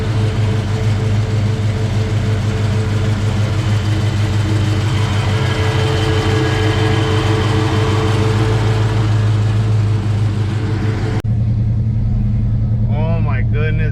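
A 1970 Chevelle SS rolls along on a drive with loud, steady engine and road noise throughout, which drops suddenly near the end to a quieter idle-like rumble.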